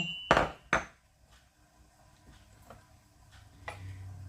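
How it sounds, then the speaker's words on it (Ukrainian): A knife slices a hot chili pepper on a cutting board: two sharp, close chops in quick succession, then a few fainter taps in a quiet kitchen. "Нарізаю таку гірку перчинку зовсім небагато."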